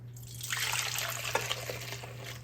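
Frothy, ready yeast mixture poured into a bowl of flour for homemade Italian bread, a soft liquid trickle and splash rising after a brief pause and running steadily close by for about two seconds, with no voices.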